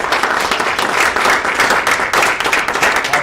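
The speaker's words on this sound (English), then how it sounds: "I think that deserves a round of applause" An audience at a board of education budget workshop gives a round of applause, dense and loud clapping that continues steadily with no talk over it.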